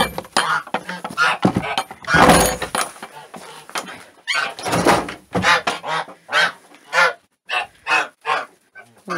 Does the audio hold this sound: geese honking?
yes